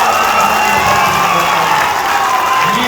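A rally crowd claps and cheers loudly in a dense, continuous wash of applause and shouts for about three seconds, with no voice rising clearly above it.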